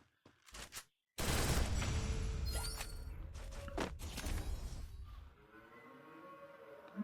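Rapid bursts of gunfire from a mobile shooter game, a short shot then a sustained loud fusillade with thuds and whooshes, fading near the end; no talk.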